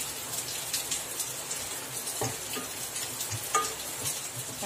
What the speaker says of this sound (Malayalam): 1/2 മുറി ക്യാപ്സിക്കം ആണ് ഇതിലേക്ക് ഇട്ട് നന്നായിട്ട് ഇളക്കി കൊടുക്കുക.